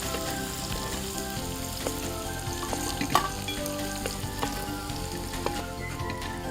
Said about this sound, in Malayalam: ഇനി നമുക്ക് അരിഞ്ഞു വെച്ച ഇഞ്ചി ഇട്ട് കൊടുക്കാം. ചെറുതായിട്ടൊന്ന് വാടിക്കോട്ടെ.